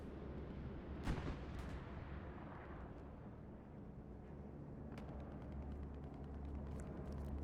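Bombing run in a multiplayer war video game match: dense, continuous booming rumble with layered distant explosions and crackling impacts, a sharper blast near the start, sustained at steady loudness throughout.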